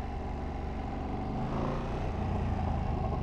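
A Ducati Panigale V2 or Multistrada V2 motorcycle engine drones loudly and continuously, its pitch rising slightly partway through as it pulls, with no voices.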